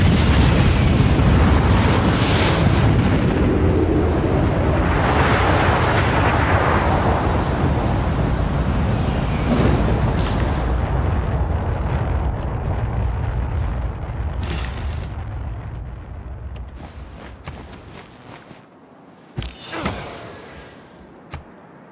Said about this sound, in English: With our thermonuclear device.